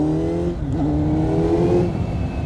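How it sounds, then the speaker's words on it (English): A Kawasaki Z900 motorcycle fitted with a Leo Vince GP Corsa slip-on exhaust holds a loud, close, steady engine drone, its pitch dipping briefly before settling back. "I changed the exhaust on my bike, so it sounds hella good right now."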